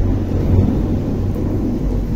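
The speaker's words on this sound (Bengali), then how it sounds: "প্রচণ্ড ঝড় বৃষ্টি হচ্ছে বাইরে, প্রচণ্ড আওয়াজ পাওয়া যাচ্ছে মেঘের।" Low, continuous thunder rumbles through a heavy rainstorm outside, a dense steady roar filling the low end for the whole stretch, with no one talking.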